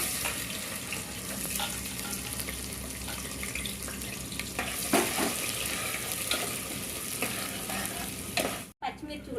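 Onions and whole spices fry in hot oil for a spicy country-chicken curry, a steady dense sizzle with stirring scrapes running throughout, loud and close, briefly cutting out near the end.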